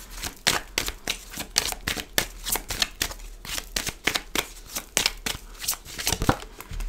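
Tarot cards being shuffled and handled at close range, a rapid run of crisp riffling flutters and soft slaps repeating steadily throughout, with no talk.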